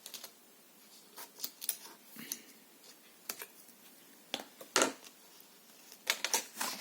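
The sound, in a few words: scissors cutting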